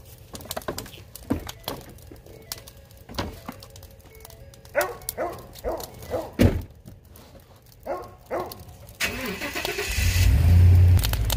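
A truck engine turns over and starts at the end after a series of thunks and clatter nearby, then runs with a loud steady rumble, with birds faintly in the background.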